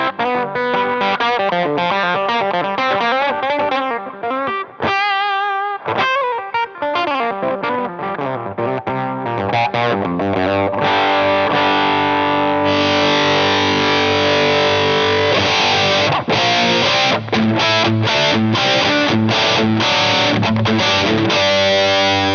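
A heavily distorted electric guitar played through an all-tube distortion pedal plays loud chords and riffs, thick and saturated, with a brief pause near the start before continuing steadily.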